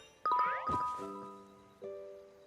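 A phone rings in the life-sim game Heartopia as a short, bright chiming ringtone, a few tinkling notes followed by a softer sustained tone, heard alone.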